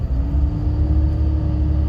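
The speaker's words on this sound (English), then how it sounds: "Oh, here comes the car." A car approaches on a mountain ridge road, heard as a loud, steady low engine rumble that fills the short stretch with no talking.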